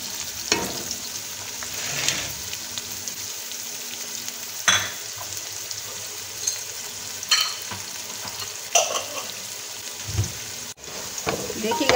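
Onions frying in a pan for beef curry (bhuna gosht) give a steady sizzle, with repeated scraping stirs and a few sharp utensil knocks against the pan throughout.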